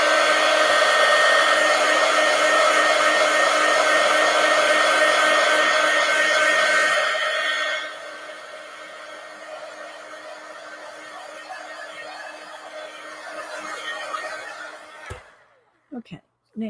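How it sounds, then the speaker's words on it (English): Heat gun blowing hot air to dry marker ink and collage work in a mixed media art piece, a steady loud whooshing drone that drops to a lower setting midway, then cuts off near the end with a few small clicks. "let's go ahead and hit that with the heat gun so I don't drag my wrist through that"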